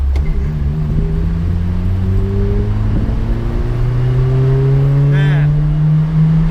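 A Nissan Micra engine with an exposed throttle body breather mod revs up in rising sweeps, a booming, growling intake note close to the mic, with a brief spoken word near the start.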